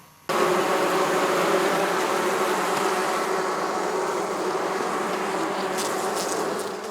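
Honeybees swarm densely around beehives in a continuous loud, even buzzing drone that starts abruptly and holds steady throughout, with no voices.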